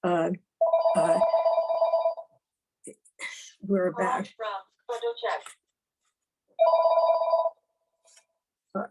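A telephone rings in two long electronic bursts, fairly loud and close, separated by conversation from several people talking in a room during a recorded discussion.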